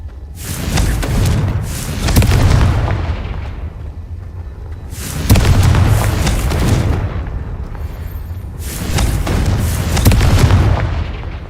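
Confringo spell explosions in the Hogwarts Legacy video game, three loud booming blasts spaced a few seconds apart, each a broad crackling burst that decays slowly, with no voices over them.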